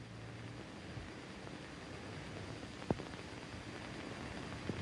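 A steady airplane-like engine drone hums low and faint beneath a 1940s horror film soundtrack, with one brief sharp click partway through.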